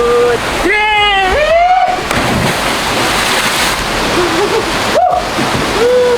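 Someone leaps off a cliff into a pool at Tamanique waterfall, El Salvador: a rushing splash and churn of water over steady falls, with excited whoops and voices before and after.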